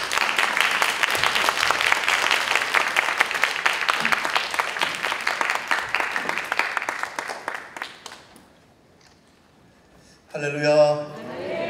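Hearty applause from a congregation at a Baptist pastors' spirituality seminar in a church welcomes a guest pastor to the stage. The dense clapping runs steadily for about eight seconds, then fades into quiet before a voice begins.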